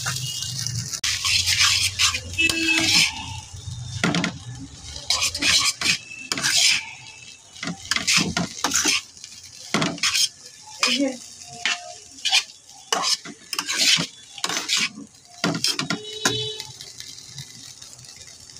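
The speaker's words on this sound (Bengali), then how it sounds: "নুন দিয়ে একসাথে নেড়ে চেড়ে ভালো করে মিশিয়ে নিচ্ছি" Egg chowmein being stirred with salt in a hot pan, bursts of sizzling and scraping metal utensil strokes coming in irregular clusters with short quieter gaps between, close up and without speech.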